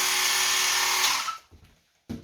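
A portable air compressor runs loud and steady with a broad whine, then cuts off abruptly, leaving near silence before a brief burst of noise returns at the end.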